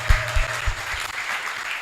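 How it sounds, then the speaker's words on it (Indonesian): Audience applause after a call to clap for everyone at a motivational community talk, with a few loud claps up front and then a steady wash of clapping that holds to the end. "Tepuk tangan buat kita semua dong teman-teman."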